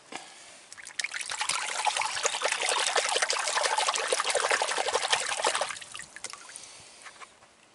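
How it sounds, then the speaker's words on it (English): Water runs steadily over a homemade jet pump impeller during rinsing, a continuous splashing trickle that rises after a second, holds for several seconds, then tapers off quietly. "I'm gonna rinse it."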